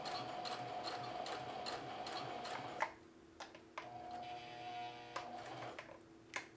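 A sewing machine stitches denim up to a corner of a jeans front or watch pocket, a steady rapid mechanical whir that stops partway, followed by a few isolated clicks and short bursts as the needle is positioned.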